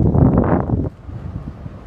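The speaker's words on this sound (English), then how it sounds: "it's windy. Holy crap, it's windy." Strong outdoor wind buffets the microphone with a loud, low rumbling gust that drops off abruptly after about a second, leaving a softer, uneven blustery roar.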